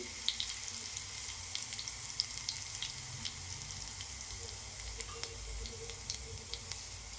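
Crushed cumin and garlic sizzling in hot oil, a faint, steady crackling hiss with small sharp pops here and there, quiet and without speech.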